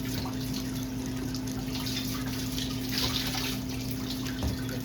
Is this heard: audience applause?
no